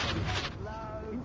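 A spell's blast in a video game, a short booming burst followed by crackling and a fading ringing tone, with voice chat audible under it.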